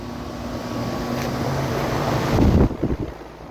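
A 2012 Goodman air conditioner runs outdoors as a steady broadband whoosh with a faint hum, partly masked by wind buffeting the microphone, then a few rough bumps near the end.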